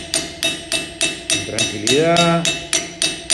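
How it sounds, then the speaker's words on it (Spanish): Steady rhythmic hammer blows shaping the sheet metal of a 1962 Ford Falcon fender, about three sharp metallic taps per second, loud and close, with a brief spoken word partway through. "Se le pega con este martillo para darle el bombé"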